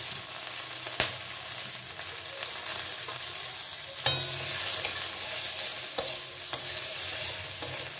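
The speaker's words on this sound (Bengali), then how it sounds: "এবার আমি পেঁয়াজটাকে ভালো করে ভেজে নেব।" Onion rings frying in oil in a pan for aloo dum, a close continuous sizzle broken by a few sharp spatula knocks and stirring scrapes.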